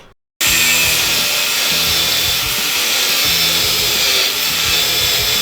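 A power tool cuts steadily through a seized drop link bolt on a Mazda MX-5, a loud continuous grinding whine that starts abruptly after a brief silence and holds for several seconds, close up.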